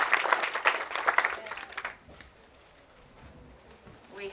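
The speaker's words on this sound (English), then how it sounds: "Please give them a round of applause for supporting this event." A short burst of clapping from a small crowd fades out after about two seconds, leaving quiet room sound.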